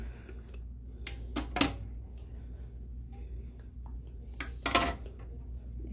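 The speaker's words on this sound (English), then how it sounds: "So we're going to go ahead and get our canner filled up." Quart jars of turkey broth set into a pressure canner one after another: scattered glassy clinks and metallic knocks in a quiet kitchen, with faint low background hum.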